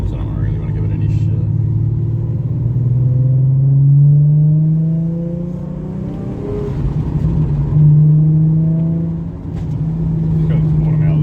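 A car engine drones steadily while driving on a road, still cold, with a low rumbling tone that rises and falls through gentle shifts in pitch, loud and close throughout.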